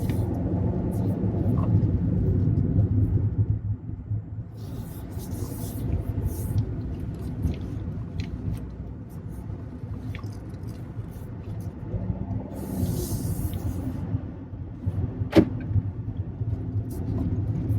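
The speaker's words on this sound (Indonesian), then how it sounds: "Sekarang kita akan jalan dan mengetes mobilnya." A 2022 Daihatsu New Sirion driving on the road, heard from inside the cabin. A steady low engine and road rumble continues throughout at a moderate level, with faint talk and a few small clicks inside the car.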